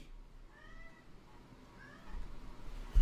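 A cat meows twice, soft and fairly faint, against a quiet background with a low rumble.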